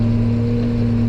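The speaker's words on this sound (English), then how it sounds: "this tractor here, for some reason, I don't know, the New Holland here, it's just giving us trouble" New Holland tractor engine idling with a steady, loud droning hum, continuous and close by, the machine reportedly having fuel trouble.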